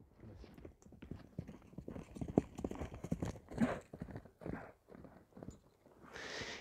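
A black horse walks on firm ground, hooves clopping in an uneven rhythm, fairly close and moderately quiet, with a few soft snorts and shuffles between steps.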